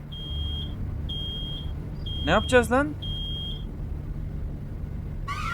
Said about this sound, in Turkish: It's an alarm! Can't stop the alarm!